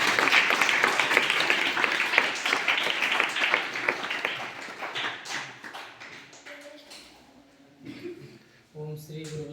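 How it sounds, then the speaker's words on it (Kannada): An audience claps at a religious initiation gathering, loud and dense at first, then thinning and fading, with voices and other sounds toward the end. "ಚಪ್ಪಾಳೆ ತಟ್ಟಿ"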